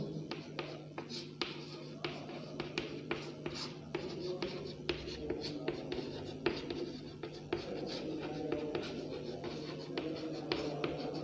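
Chalk or marker scratches and taps on a board during a Hindi grammar lesson, a steady run of short strokes in a quiet room with faint background hum.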